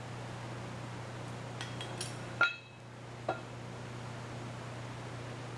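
Flat metal Harbor Freight 20-ton press plates are flipped over, giving a few faint clinks and then two distinct metallic clanks a moment apart over a steady low electrical hum.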